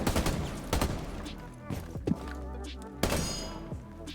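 Bursts of gunfire in Rainbow Six Siege, several loud shots and clattering impacts over a dense, busy game soundscape with thuds and rumble throughout.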